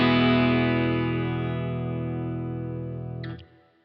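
A single sustained distorted electric guitar chord through a DeArmond gold foil pickup in the bridge position rings out loud and slowly decays before being abruptly muted near the end, with no voices.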